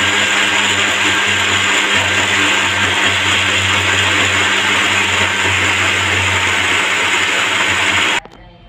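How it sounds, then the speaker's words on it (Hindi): A mixer grinder blends peanut chutney in a steady, loud, continuous whir that runs alone for about eight seconds, then cuts off abruptly. "और इसे पीस लूंगी।"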